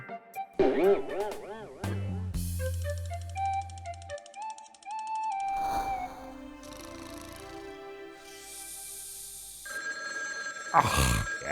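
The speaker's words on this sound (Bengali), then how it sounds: "এখন আবার কে ফোন করলো?" A cartoon telephone rings in repeated bright electronic bursts over a musical backdrop, loud and close, with other cartoon sound effects around it.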